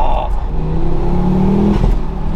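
A Ford Focus RS MK2 five-cylinder engine revs up close and loud, its low throbbing note climbing in pitch over a couple of seconds before easing off.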